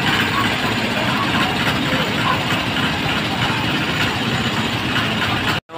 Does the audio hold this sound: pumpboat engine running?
yes